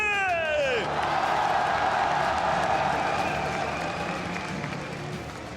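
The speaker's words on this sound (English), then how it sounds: "S'il vous plaît, une fois de plus, applaudissons tous ensemble les RNG." A large crowd at an esports match, a League of Legends Mid-Season Invitational semifinal, applauds and cheers in a dense, sustained roar that slowly fades, after a brief rising electronic sweep at the start.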